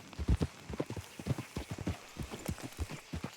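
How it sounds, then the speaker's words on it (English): Horses walk slowly along a road in the western open-world game Red Dead Redemption 2, their hooves clip-clopping in an uneven, overlapping rhythm at moderate volume with no talking over them. "Let's leave the horses off the road to the right here."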